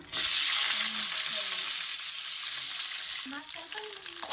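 Onions and green chillies fry in oil with cumin, cloves and cinnamon for an Andhra-style dondakaya masala curry, a loud, steady sizzle with occasional scraping stirs close by and faint voice-like tones underneath.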